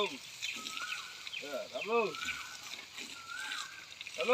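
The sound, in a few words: water splashing as a mother and her young bathe together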